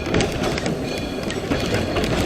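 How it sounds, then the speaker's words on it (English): Steam exhausting from the steam-powered air compressor on a narrow gauge locomotive at the Roaring Camp & Big Trees railway, a loud, steady rushing hiss that holds for the whole stretch with no voices over it. "That is the exhausting steam from our steam-powered air compressor."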